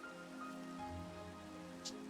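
Steady soft rain patters throughout in the video game Cozymon, a continuous even hiss sitting under quiet background music with no talking.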